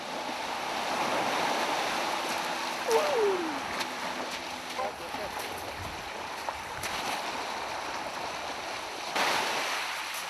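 Ocean waves wash continuously against an Alaskan shore in a broad, even roar, with faint bird calls and a few splashes mixed in.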